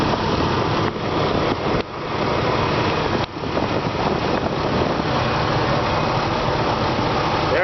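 A 2006 Jeep Wrangler with a 4-liter inline six-cylinder engine idles steadily nearby in a loud, even drone. A few brief dips in the noise break it, and no one speaks.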